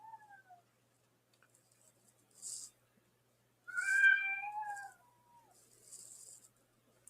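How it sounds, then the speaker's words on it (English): Kittens playing rough let out a few short, close meows, one clear drawn-out mewl in the middle and fainter cries around it, separated by quiet gaps and soft hissy bursts. "feeling kittens are playing rougher than what they should be"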